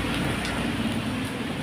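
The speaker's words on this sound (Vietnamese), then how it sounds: "Đây cái mưa hoài ạ." Steady rain pouring down at a used-car lot, a constant dense hiss and patter filling the scene without pause, loud and close, with no one speaking.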